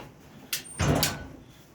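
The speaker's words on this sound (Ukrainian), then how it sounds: "Вітер двері закрив." A door blown by the wind bangs shut with a dull thud, preceded by a short swish, then quiet.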